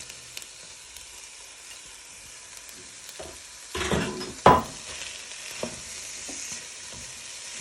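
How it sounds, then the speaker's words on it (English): Bacon fries with onions and celery for a smoked haddock chowder, a soft steady sizzle in the pan with a few louder bursts and utensil scrapes as it is stirred. "fry that in with your onions and celery"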